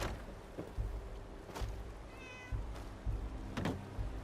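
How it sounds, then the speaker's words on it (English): A cat meows in Fallout 4, near the harbor area. One faint, brief meow rises out of a hissy, rumbling game ambience with a few soft thumps. "Kitty cat!"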